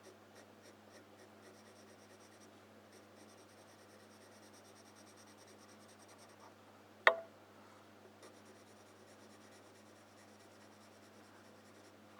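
A pen shades a 2D bottle drawing on paper, giving quiet, steady scratchy strokes in short repeated bursts over a low hum, with one sharp tap partway through.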